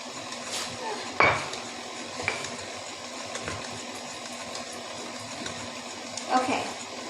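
Cutlery is rummaged through in a kitchen while someone hunts for a tablespoon during baking, with sparse metallic clinks and rattles, two sharper bursts standing out over a quiet background.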